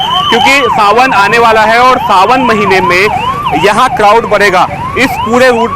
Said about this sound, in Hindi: पीछे से एक एम्बुलेंस की आवाज भी आ रही है।